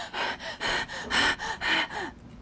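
A person takes a series of deep, loud breaths up close in a demonstration, about six rhythmic in-and-out breaths with short gaps between them, ending in a final audible exhale. No words are spoken.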